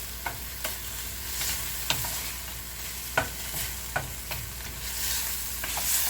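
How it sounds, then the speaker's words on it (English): A quarter of an onion browning in beef pan drippings sizzles steadily in the pan, with a spoon stirring and scraping at intervals, close and alone without talk. "1/4 of an onion into the pan drippings and browning it"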